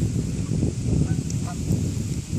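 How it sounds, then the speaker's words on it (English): A dense flock of geese honking continuously at a pond, many overlapping calls close by with a steady outdoor rumble underneath. "I've never seen this much geese at our pond."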